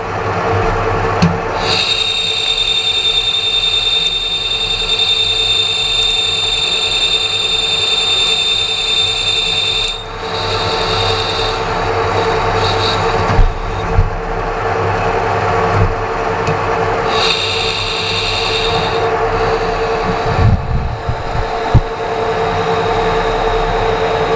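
A machine rough-cutting a duralumin part at 6 mm per pass, with a steady high tone and continuous grinding hum throughout, briefly changing pitch partway through; loud and close, with no talking.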